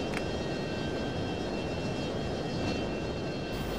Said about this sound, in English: they're providing an escort for these two Stallion aircraft